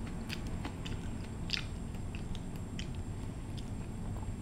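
Close, crisp bites and chewing of a crunchy plum, with irregular crackling crunches repeating over a steady low background and no talking.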